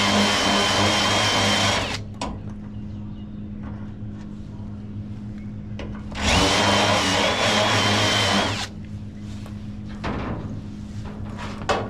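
Rivets are drilled out of a '92 Foxbody quarter panel: two loud whining bursts of several seconds each, with quieter shop noise and short taps between them.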